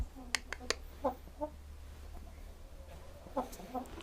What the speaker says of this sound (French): Là il y a le coq.